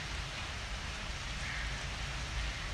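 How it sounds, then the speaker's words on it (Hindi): Steady rain patters continuously, a soft even hiss of drops falling on surfaces with no voices. "बारिश हो रही है"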